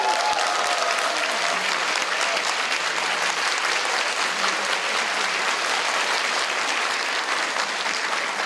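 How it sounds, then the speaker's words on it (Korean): An audience at a political policy forum gives sustained, loud applause, a dense continuous roar of many hands clapping with no break for the full stretch. "다시 한번 뜨거운 박수 한번 부탁드리겠습니다"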